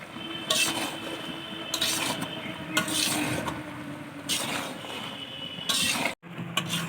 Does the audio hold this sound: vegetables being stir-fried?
yes